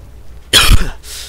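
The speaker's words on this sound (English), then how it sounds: "I do apologize for coughing." A single harsh cough from one person with a dry throat, close and loud, followed by a brief breathy exhale.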